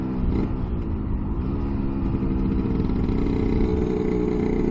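A two-stroke Lambretta scooter with a very loud exhaust buzzes loudly and steadily with a raspy, uneven drone, staying close throughout without clear rise or fade.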